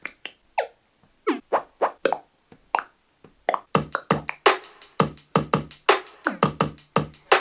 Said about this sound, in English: there's this bamboo drum thing, and it makes a sound just like this